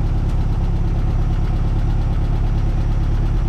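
A freshly tuned VW dune buggy with a 1600cc air-cooled engine runs steadily, a loud, close, even low rumble with a fast throbbing pulse and a faint mechanical clatter, no voices.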